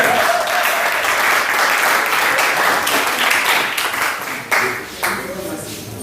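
A church congregation applauding to acclaim the Lord at a motorbike handover ceremony for pastors: steady, dense clapping from many hands throughout, fairly close, thinning slightly toward the end with a voice faintly underneath.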